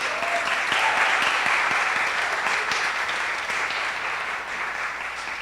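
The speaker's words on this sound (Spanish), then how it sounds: "Un aplauso para Paz también" Audience applause honors a Paraguayan film director at a film festival talk, a dense, steady round of clapping with a few faint voices mixed in that eases slightly toward the end.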